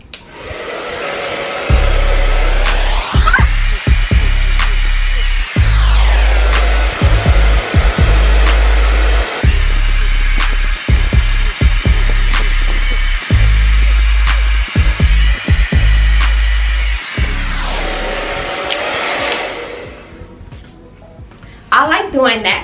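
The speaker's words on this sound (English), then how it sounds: "So I got my blow dryer nice and ready for y'all" Blow dryer on warm heat stretching 4C natural hair after a braid out, a loud steady motor whine running for long stretches with speed and pitch shifts, close to the microphone while someone talks intermittently over it.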